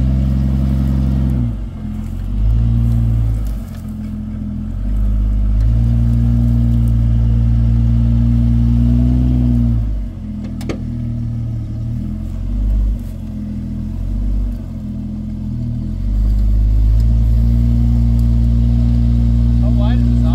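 A Jeep XJ on a lifted, budget off-road build grinds over a rocky obstacle, its engine loud and close, rising and falling in low revving surges with pauses between pushes.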